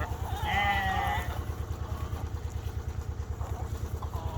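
Sheep bleat once in a fresh pasture, a clear wavering call near the start, over a steady low rhythmic engine-like hum that runs throughout.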